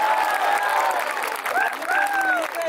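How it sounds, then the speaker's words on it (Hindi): An audience at a comedy poetry show claps in a dense, sustained round of applause, with a voice rising above it. "ताली बजाओ सांस लेना है"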